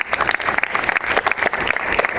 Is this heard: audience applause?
yes